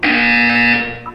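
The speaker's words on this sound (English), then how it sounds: "When you hear the buzzer, look down at the floor." A sustained electronic buzzer from the game Portal 2 sounds loud and steady for about a second, with a rich harmonic tone, then tails off quickly.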